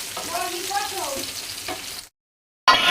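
Onion and garlic fry in a pan with a continuous close sizzle and some stirring. A voice talks over it, then the sizzle cuts out briefly and returns louder.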